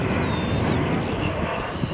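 C-27J Spartan military transport aircraft flying a tight, minimum-radius turn, its steady turboprop engine drone loud and continuous with a broad roar and a faint high whine sweeping slightly in pitch.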